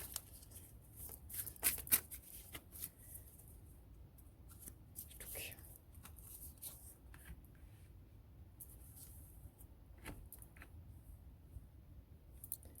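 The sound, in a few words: drawing the last tarot card from the deck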